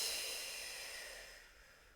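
Pursed-lip exhalation during a Pilates breathing exercise: a single long, soft breath out with an airy hiss that fades gradually over two seconds, quiet and close, with no talking.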